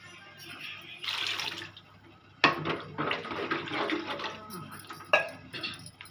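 Water splashes and pours in bursts into a cooking pot for boiling fish, a rushing stream starting and stopping a few times, close by with no talking.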